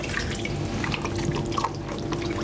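Tap water streaming steadily into a sink while a whole turkey is rinsed in a kitchen, a continuous splashing hiss with small drips and gurgles, close and moderately loud throughout.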